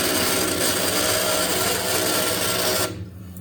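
A 20-inch wood bandsaw converted with a worm gear drive cuts through 1/8-inch metal, a loud, steady grinding hum with a buzzing motor tone that drops off abruptly just before the end.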